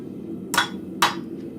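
Blacksmith's hammer striking steel on an anvil while curling hooks for a shelf bracket in a forge: two sharp, ringing metallic blows about half a second apart, close and clear over a low background hum.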